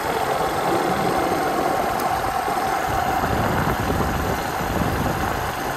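A motorbike engine hums steadily while riding at night, a constant close drone mixed with rushing wind noise and no talking.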